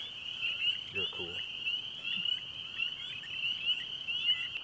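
Wood frogs and spring peepers call together in a spring chorus, a steady high piping drone with clucking croaks mixed in, continuous and fairly loud throughout, with a brief human voice near the start.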